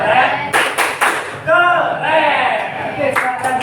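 A classroom group claps out the rhythmic "tepuk keren" applause cheer, sharp bursts of clapping in quick clusters with voices chanting along near the listener.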